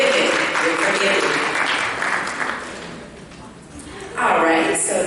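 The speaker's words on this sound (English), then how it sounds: "Give yourselves a round of applause." Workshop audience applauding, a broad steady wash of clapping that fades midway, then surges back loud near the end.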